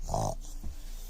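A toddler imitates a pig's oink with a single short, nasal, voiced grunt up close, followed by a fainter trailing vocal sound.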